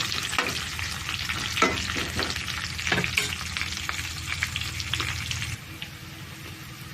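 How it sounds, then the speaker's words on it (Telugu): Onions frying in a pan for a raw banana porutu dish give a steady close sizzle, broken by a few louder stirring scrapes, and then drop to a quieter simmer near the end. "ఉల్లిపాయ వేగింది కదా, ఉల్లిపాయ వేగిపోయింది"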